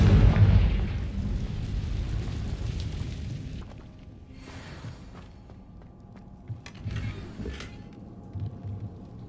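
A Confringo blasting spell in a Harry Potter video game bursts in a loud, deep rumbling explosion at the start, then fades into a lingering roar with softer later crackles and bursts.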